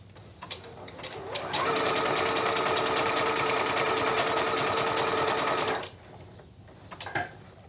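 A Bernette Chicago sewing machine stitches appliqué in one steady, fast mechanical run of several seconds, preceded and followed by a few soft clicks and handling sounds.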